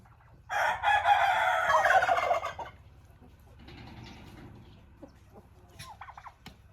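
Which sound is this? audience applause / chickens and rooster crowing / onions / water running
chickens and rooster crowing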